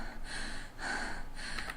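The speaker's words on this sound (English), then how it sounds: "it's the weird panting sound, like they're out of breath and trying to run" Out-of-breath enemies in the video game Ayumi make raspy panting, three harsh breathy gasps in an even rhythm, fairly close and moderately loud over quiet background noise.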